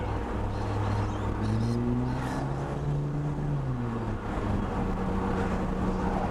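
A Holden VL running twin mufflers on a 3.5-inch exhaust drones along at steady cruise, a low continuous engine hum with no speech over it.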